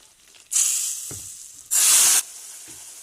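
Milk poured slowly onto toasted semolina in a pan for sütlü irmik helvası makes two loud, hissing sizzle bursts, each surging and then fading, with no talking.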